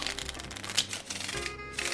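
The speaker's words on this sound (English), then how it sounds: "Then I'll shuffle." Playing cards are shuffled in a dense, rapid riffling rattle that lasts about two seconds, with a faint, steady background hum underneath.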